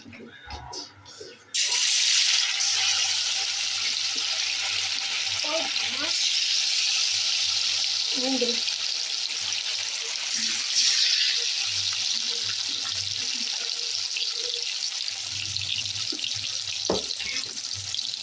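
Chilli chicken fries in hot oil with a loud, continuous hiss and sizzle after a brief rustle at the start, and a voice talks at moments underneath.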